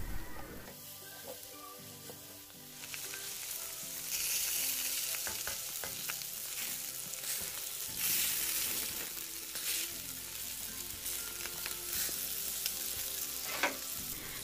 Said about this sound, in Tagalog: Haluin lamang po natin ito mabuti upang magpantay ang lasa nito sa ating niluluto.